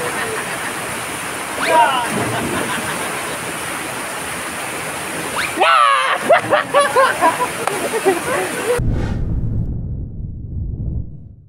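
Dayhag Falls in Boljoon, Cebu, gives off a constant broad rushing roar of falling water close by, with a voice talking over it before the roar cuts away near the end.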